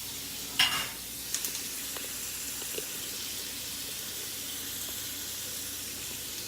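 Shrimp sautéing in a pan for shrimp and cheese grits, a steady soft sizzle with a few faint clinks of a utensil near the start.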